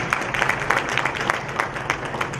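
Audience at a regional justice symposium applauding, a close, dense burst of clapping with irregular sharp peaks that sustains across the whole moment without voices.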